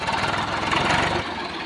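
A tractor engine idles close by with a rapid, rhythmic knocking thump that is loud and steady, then eases and softens near the end. No one speaks.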